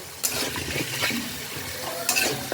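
Spice masala with a splash of water stirred in a pan for a jackfruit and prawn curry, a steady wet scraping and gentle sizzle with a couple of sharper spoon scrapes, close and continuous, no talking.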